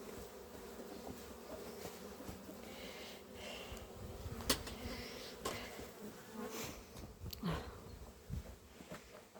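Honeybee colonies flying around their hives at an apiary being readied for the cold season, a steady many-voiced buzzing hum with individual bees droning past the microphone now and then, quiet and without talk.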